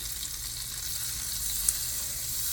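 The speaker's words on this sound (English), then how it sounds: "on a very low heat with my pan, melt the butter." Butter melting in a pan over very low heat for a béchamel roux gives a soft, steady sizzle, faint and even throughout, with one tiny tick partway through.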